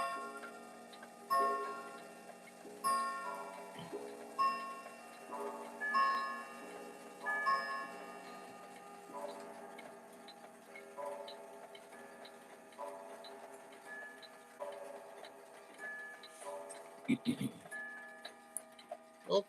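Ticking from an antique granddaughter clock runs throughout with a faint, even rhythm, mixed with ringing chime-like tones and a few sharper knocks, all quiet and close.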